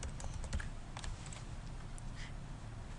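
Steady typing on a computer keyboard, a brisk run of soft close clicks and taps over a faint low hum, with no talking.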